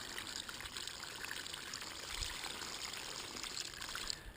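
Water bubbles and gurgles up through gravel in a gold fluid bed, a steady faint hiss and trickle of flowing water with small splashy bursts, no talking.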